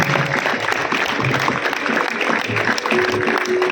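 Sustained applause from an audience at a Marathi lifetime achievement award ceremony for theatre artist Mohan Joshi, a dense, steady wash of clapping that fills the hall throughout.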